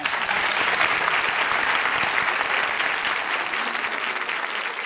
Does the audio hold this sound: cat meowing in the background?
no